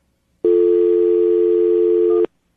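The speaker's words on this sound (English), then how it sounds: "I'm going to dial the number right now, see if we can get her on the phone" A telephone tone sounds as a number is dialed for a radio call, one steady electronic tone lasting nearly two seconds, loud and clean with no talk, then cut off abruptly.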